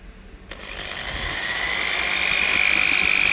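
A drill boring into the deck of a BMW N55 engine block, a steady rising whine that builds in loudness and pitch over a few seconds, close and alone with no talking.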